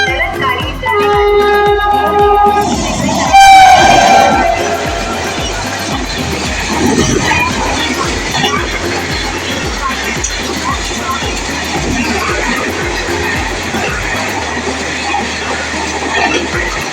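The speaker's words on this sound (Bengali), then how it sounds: "ট্রেন চলে আসছে, যে ট্রেনে যাবো আর কি আমি" A train pulls in at a Mumbai station platform, its rolling rumble and clatter running steadily beneath platform announcements and crowd noise, with a brief screech of wheels near the start.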